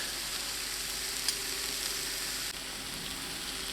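Salmon seasoned with ground pepper and sea salt fries in a pan with a faint, steady sizzle and a soft hiss throughout, plus one light tap partway through.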